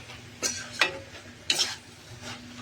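Mushrooms stirred into masala in a pan for matar mushroom: a few scraping, sizzling strokes of a spoon against the pan at irregular intervals, close by, over a low steady background with no talk.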